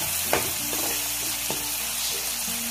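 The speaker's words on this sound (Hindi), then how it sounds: "तो हमारा मसाला फ्राई हो रहा है" Masala of cumin, garlic paste and tomato paste frying in a pan, with a steady soft sizzle and a few scraping stirs of a spoon, close by and without speech.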